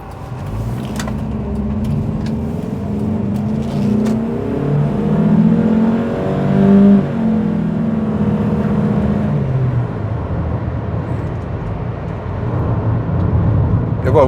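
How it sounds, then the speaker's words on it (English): A 2005 Nissan X-Trail that has had engine work revs up as it accelerates on an open road, a loud cabin-heard engine drone rising and swelling, with some talk over it. "when it revs, you definitely know it's revving"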